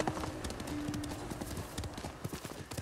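A horse's hooves clip-clop at a steady trot in the video game Ghost of Tsushima, the beats running through the whole stretch over a soft game background.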